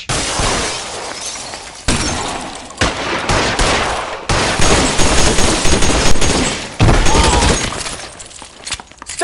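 Loud, dense gunfire in the crime video game L.A. Noire, with rapid bursts of shots and shattering impacts filling the whole stretch, broken by brief dips between volleys.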